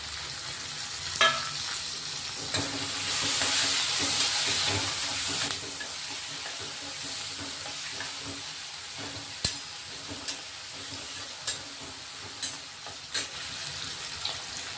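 Finely chopped tomato sizzles steadily in a hot pan, with a burst of louder hissing early on and a series of sharp spoon taps against the pan later.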